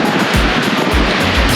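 Surf at a beach as the tide comes in roars loudly and continuously, with heavy wind buffeting the microphone in repeated low thumps.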